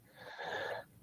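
Ebony the dog snores in one drawn-out, wheezy breath, a rasping sound that swells, holds for a moment and then fades, close by with no voice over it.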